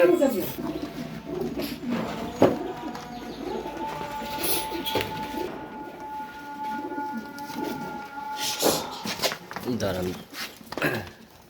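Sirazi and Satin pigeons kept in a village setting coo repeatedly in soft, rolling calls, with a person talking over them.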